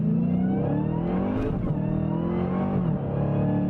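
A Dodge Challenger Hellcat RedEye with an automatic gearbox, driven in manual mode on paddle shifters, accelerates hard, its loud engine note climbing through rising revs with a brief shift break, heard from inside with no talk.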